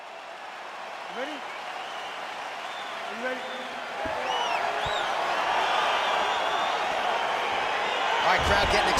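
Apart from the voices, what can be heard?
crowd cheering in the EA Sports UFC 4 video game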